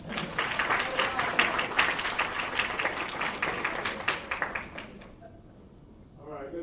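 At an education symposium, an audience gives a speaker a round of moderately loud clapping that fades out after about five seconds, followed by a voice beginning to talk.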